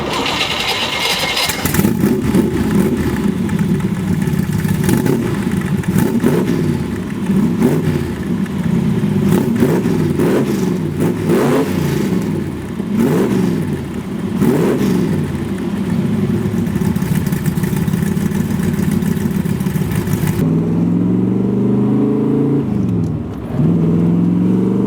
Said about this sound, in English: driving a big block Corvette is something else, especially with those side pops. It's just got such a unique rumble to it.